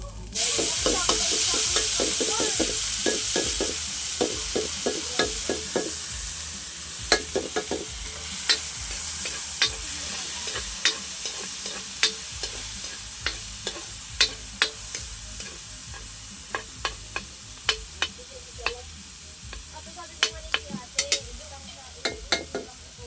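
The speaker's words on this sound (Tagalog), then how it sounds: "Igisa natin." Ingredients sizzle and fry in a hot pan over a strong wood fire for a New Year meal, with a steady hiss broken by repeated sharp scrapes and clinks of a spatula stirring.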